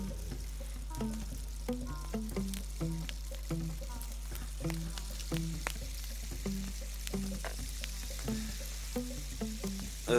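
Chicken roasting over an outdoor campfire, crackling and popping in irregular bursts over a low steady rumble, fairly quiet and close, with no one talking.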